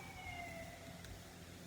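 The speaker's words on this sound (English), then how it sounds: "Apologies for the siren." An emergency vehicle siren wails faintly in the distance outside, a thin gliding tone over low rumbling background noise.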